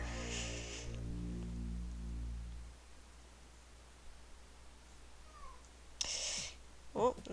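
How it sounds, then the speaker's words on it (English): A cat lets out a short meow near the end, faint against steady background static that follows an earlier stretch of low humming. "Oh, that's a cat."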